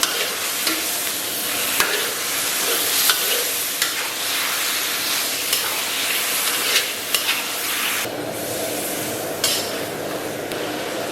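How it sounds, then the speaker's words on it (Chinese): Pork belly pieces and seasonings stir-fry in a hot wok, the fat rendering as the meat browns; a steady, close sizzle runs throughout, broken by frequent clanks and scrapes of a spatula against the metal, with no talking. "咱们把五花给它煸炒出油脂，煸至微微焦黄啊"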